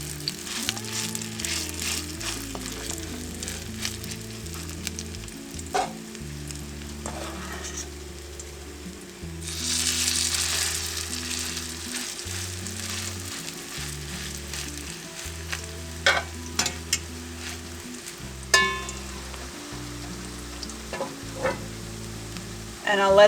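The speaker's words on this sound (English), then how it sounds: "That means that it's hot enough to start frying." Wild-caught trout patties fry in hot, flour-dusted oil, giving a continuous soft sizzle and crackle that swells briefly partway through, beneath steady background music.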